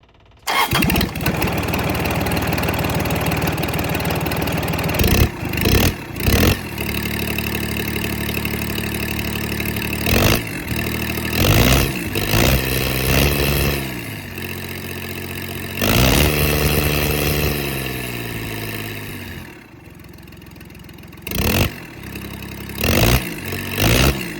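A Kubota diesel engine runs with a straight pipe, the muffler removed and only the header fitted. It cranks, fires and idles with a loud, raw clatter, broken by repeated revs and stop-start bursts over about twenty seconds.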